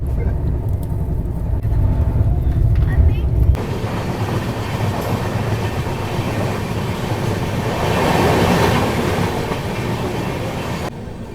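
Dibrugarh to New Delhi Rajdhani Express train running, a loud steady rumble of wheels and carriage noise close by, shifting in tone partway through, with faint voices underneath.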